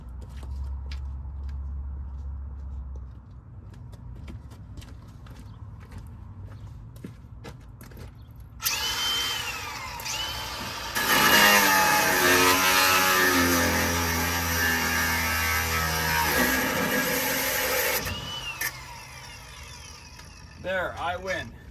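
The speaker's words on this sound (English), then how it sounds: "I'm going to get the grinder." An angle grinder cutting metal on a 1937 GMC truck cab being removed from a Dodge chassis, a loud harsh whine starting midway that swells and holds for several seconds, preceded by quieter shop noises.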